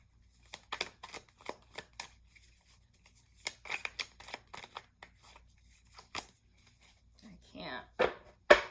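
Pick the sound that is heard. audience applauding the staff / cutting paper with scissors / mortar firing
cutting paper with scissors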